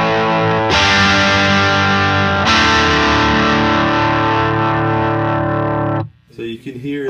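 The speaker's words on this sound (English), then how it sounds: "you can hear a sort of distortion characteristic jump in there." A loud, sustained electric guitar chord through a Klon-style overdrive pedal rings out, gaining intensity midway, then cuts off abruptly into brief talking.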